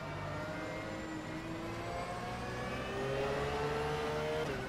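A race car engine in rFactor 2 at the Oschersleben circuit holds a steady loud drone, its pitch climbing gradually through the gears before dropping abruptly at a shift near the end.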